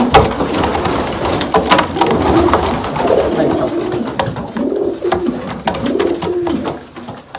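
Racing pigeons cooing inside a loft, a steady chorus of soft, overlapping throaty coos and murmurs repeating throughout, close by with no voices.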